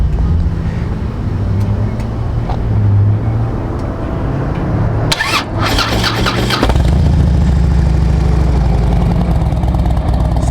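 A 2007 Harley-Davidson Ultra Classic FLHTCU motorcycle idles loudly, then the starter whirs briefly and the V-twin catches, settling into a deep, steady idle through its pipes.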